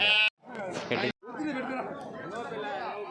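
Several sheep and lambs bleat in short, wavering calls amid chattering voices, close by at a noisy crowded weekly livestock market.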